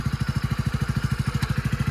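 A motorcycle engine runs close by with a fast, even low putter, loud and continuous throughout with no voices.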